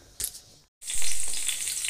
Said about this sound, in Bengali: এই যে বেগুন ভাজা বসিয়ে দিয়েছি